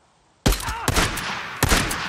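Gunfire from the video game Days Gone breaks out of near silence as sudden loud shots, with three sharp bursts over about two seconds.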